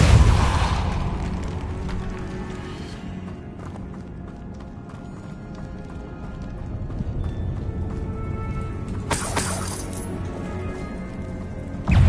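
A Depulso spell cast in the Hogwarts Legacy game, heard as a loud burst at the start with a heavy low rumble that fades into background game noise, then another sharp bright blast near the end.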